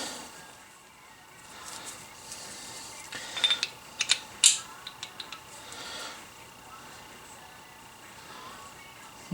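A face mill arbor is tightened onto a milling machine with a ratchet wrench, giving a short cluster of sharp metallic ratchet clicks and clanks in the middle, fairly quiet over faint background hum, without talking.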